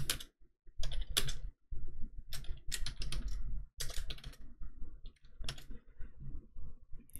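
Typing on a computer keyboard, with close, crisp bursts of rapid key clicks broken by short pauses, heard alone.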